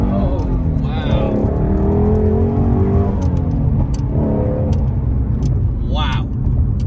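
A 2016 Ford Shelby GT350 Mustang track car accelerates hard with a loud engine that rises in pitch through gear changes and is heard from inside the cabin, while a person speaks over it.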